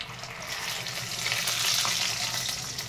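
Peanuts frying in a pan for an okra and peanut stir-fry, a steady close sizzle that holds at an even level throughout.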